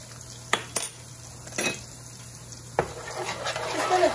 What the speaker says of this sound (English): Just gonna cook the curry powder a little bit.